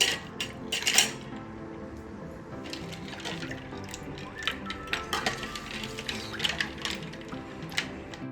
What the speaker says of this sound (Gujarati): અને થોડા બરફના ટુકડા એડ કરશું.